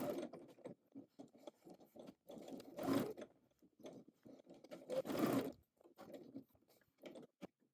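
A sewing machine edge stitches a pocket in short, faint, close runs of mechanical clicking and whirring, with a couple of louder bursts of stitching.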